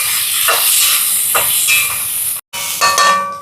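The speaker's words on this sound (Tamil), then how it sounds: "இப்போ இது நல்லா வதங்கட்டுக்கும்." Chopped onions, curry leaves and green chillies sauté in a hot pan, giving a loud, continuous sizzling hiss with brief stirring scrapes and a momentary break near the end.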